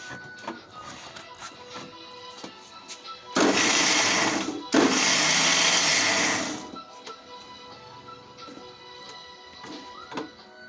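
A kitchen mixer grinder grinds ingredients for pav bhaji in a loud burst of roughly three seconds, briefly pausing before whirring again, set against quieter kitchen clatter before and after.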